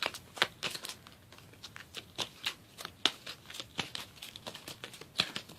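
Tarot cards being shuffled by hand in quick, uneven riffs and rustles, close and fairly quiet, with no talking.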